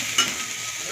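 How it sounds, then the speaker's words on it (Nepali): Soybeans fry in a pan with a close, continuous sizzle, with a brief stirring scrape near the start and no voices. "अहिले चाहिँ म यसरी सोयाबिन फ्राई गर्दैछु"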